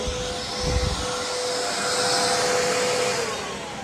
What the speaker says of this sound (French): Donc voilà la machine à neige.